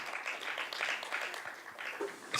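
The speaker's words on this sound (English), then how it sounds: "can you give a round of applause for" An audience at a talk on the future of the United Nations applauds, producing a faint, steady patter of clapping throughout, with no talk over it.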